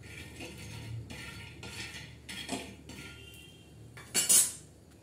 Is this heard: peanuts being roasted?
yes